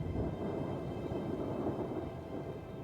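Heavy rain pours steadily with a low, rumbling wash of storm noise beneath it, dense and unbroken through the few seconds, with no voices.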